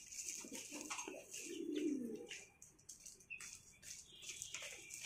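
A soft, low pigeon coo rises once, quiet and close, among faint chirps and light fluttering in a calm outdoor setting.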